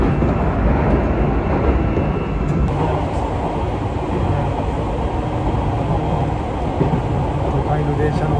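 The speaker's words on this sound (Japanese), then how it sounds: "都会の電車の音がするね" A Nagano Electric Railway train, heard aboard at under 60 km/h, rumbles along steadily and loudly, with a continuous clatter and hum, with no voices over it.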